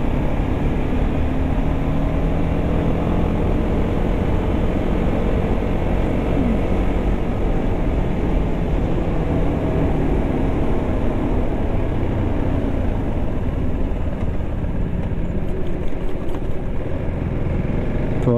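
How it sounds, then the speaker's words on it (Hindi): Kawasaki Ninja 400 and TVS Apache RR310 motorcycles in a drag race reaching high speed, a loud continuous engine roar with rising and falling rev tones that drones steadily for the whole stretch with no talking. "अभी एक बार मैं निंजा चलाने वाला हूँ और भाई RR 310 चलाएंगे"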